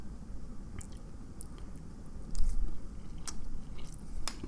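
Someone bites into and chews spicy salmon sushi right up close, with soft squishy bites and a few faint crunches over a low background hum.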